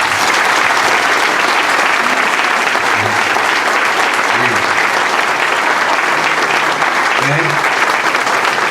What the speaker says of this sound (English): I would like one more time for us to give them a round of applause